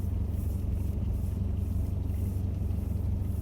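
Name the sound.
4x4 driving slowly through shallow water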